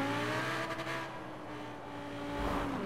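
A car engine in Forza Horizon 4 echoes inside a tunnel, a sustained harmonic drone that dips slightly and then swells again as the revs climb, with no voices.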